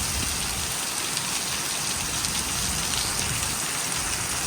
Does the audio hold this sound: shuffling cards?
no